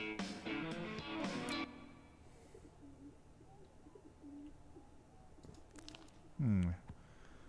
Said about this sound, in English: your damn pigeons keep getting into my room